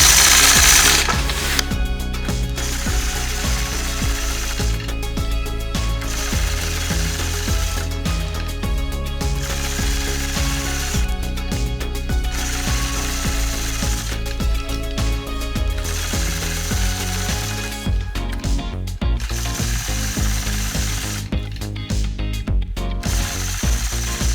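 A sewing machine quilts boxy curves along a strip with a Sway 3 ruler, its steady mechanical needle chatter running in repeated bursts separated by brief pauses, close and loud with no talking.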